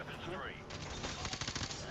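Rapid gunfire bursts from Call of Duty: Modern Warfare Remastered, loud and close, crackling in quick repeated shots through the second half after a brief lead-in of game ambience.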